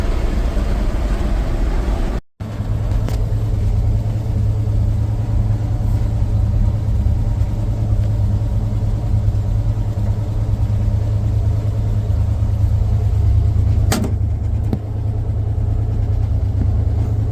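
A 1935 Ford truck engine runs steadily at idle, a loud low rumble that holds constant throughout with a brief dropout near the start.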